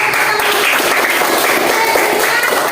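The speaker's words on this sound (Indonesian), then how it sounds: "Tepuk tangan." A classroom of students claps together, a dense steady burst of applause lasting a few seconds, loud and close with no talking over it.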